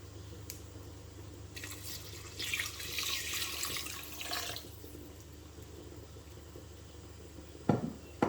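Two cups of water pour in a steady stream into a pot of vegetarian chili for a few seconds, then stop, followed by a light clank of the pot; fairly close, no speech.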